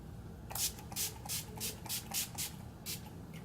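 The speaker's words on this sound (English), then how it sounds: "I'm going to be using the Urban Decay All Nighter Setting Spray" Urban Decay All Nighter Setting Spray mists onto a face in about ten quick, soft hissing pumps, close and isolated with no talk.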